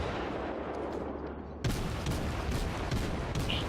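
Naval guns boom in World of Warships, a Tier 3 German cruiser battle, with a sustained rumbling barrage that jumps louder partway through and continues as repeated heavy blasts.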